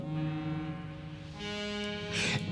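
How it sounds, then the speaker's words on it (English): A low, drawn-out foghorn tone in a song, sustained and steady with strong harmonic overtones, rising in brightness toward the end, with no talking over it. "You can hear a foghorn miles away."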